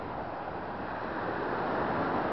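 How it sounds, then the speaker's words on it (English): Ocean waves wash onto a calm, quiet beach, a steady unbroken roar of surf with a soft wind rush that holds even and moderately loud throughout, no voices present. "Sound of the ocean."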